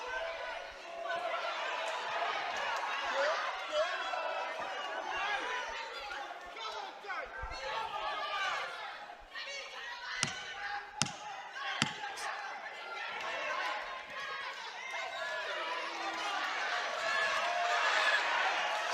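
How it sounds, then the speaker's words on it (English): Crowd at a live boxing fight between Dan Francis and Joel Kodua, cheering and shouting under steady commentary, with a few sharp punch-like smacks cutting through near the middle. "you can hear the crowd here absolutely loving it"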